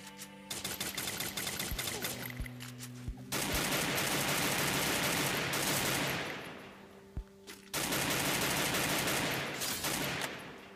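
Rapid bursts of gunfire in the mobile battle royale game Garena Free Fire, dense automatic shots in several long volleys separated by short gaps, loud and close, with no speech over them.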